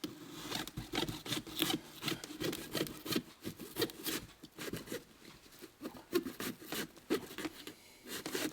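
Small saw tool cutting through a pumpkin while it is carved, a steady near rasping scrape with fast back-and-forth strokes that runs on without pause.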